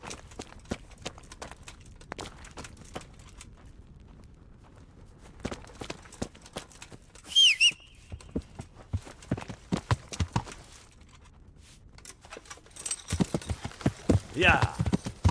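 Horse hooves clip-clop in the medieval video game Kingdom Come: Deliverance, a faint, steady run of close hoofbeats with scattered louder clusters and a brief whinny-like sound in the middle.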